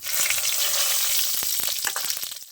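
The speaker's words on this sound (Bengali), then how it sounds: "এবার তেল গরম হয়ে গেছে, আমি ফোড়ন দিয়ে দেবো।" Whole garam masala spices and bay leaves hit hot oil in a kadai, setting off a loud, dense sizzle that crackles steadily, joined by a few light utensil taps near the end.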